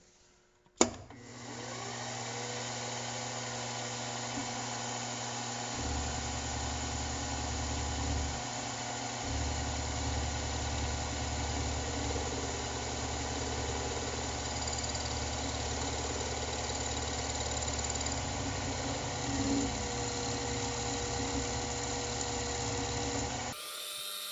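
A milling machine plunge cutting under a Rivett power feed, the cutter near the bottom of a pilot hole and wobbling the machine: a steady loud motor drone with a low rumbling vibration that shifts in pitch several times over the run.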